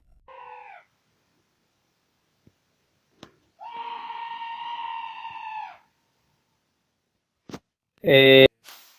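Several shrill, harmonic cries break an otherwise quiet stretch in the dark at night: a short one, a long sustained wail, then a loud, sharp final scream, all close and unaccompanied by talk.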